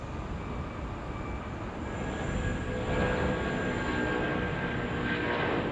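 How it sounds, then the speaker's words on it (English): Airplane taking off during a film stunt, a steady loud engine roar that builds slightly in intensity and holds throughout without any talking. "he risks his life hanging onto this plane, watched by his anxious team as they take off 8 times in a row"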